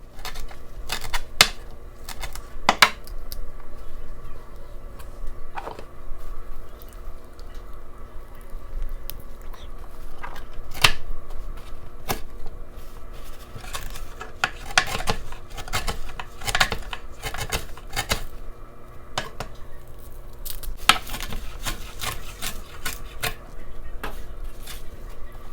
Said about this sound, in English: We're going to chop this up and go ahead and add it to the soup.